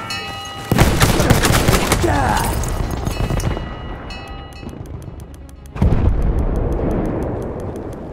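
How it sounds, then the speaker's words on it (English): Loud grenade blast followed by heavy gunfire in Battlefield 1 on a Sinai desert map, with a second explosive boom a few seconds later and rattling shots between, close and dominant. "Watch that grenade."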